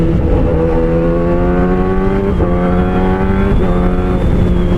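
A Kawasaki ZX-10R sport motorcycle accelerates hard through the gears with a quick shifter, the engine note climbing in steady sweeps and dropping sharply at each upshift, loud and close.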